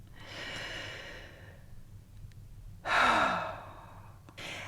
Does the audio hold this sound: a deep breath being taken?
yes